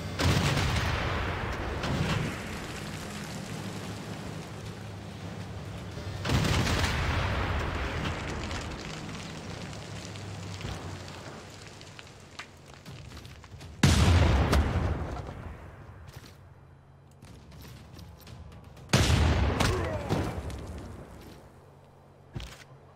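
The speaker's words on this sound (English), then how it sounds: "Bombardment!" Artillery bombardment in Civilization VI Gathering Storm lands as several heavy booms spaced across the stretch, each swelling loud then decaying into a low rumble.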